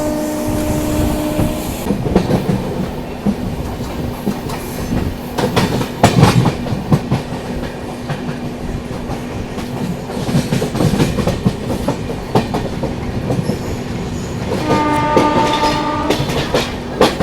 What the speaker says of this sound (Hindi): यहाँ पर अपनी राजधानी एक्सप्रेस अभी स्किप करने वाली है कसारा रेलवे स्टेशन को।